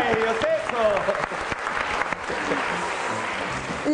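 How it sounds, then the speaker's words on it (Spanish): Applause rises from a studio audience on a Peruvian health TV show, steady broadband clapping for about four seconds, with talk and cheering voices mixed in over it. "¡Un aplauso para ellos!"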